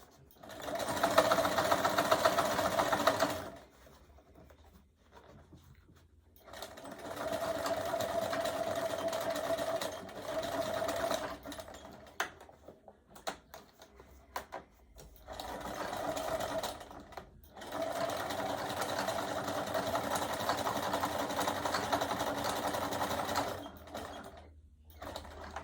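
A sewing machine stitches fabric with black thread in steady whirring runs of several seconds each, separated by brief pauses, loud and close with no talking.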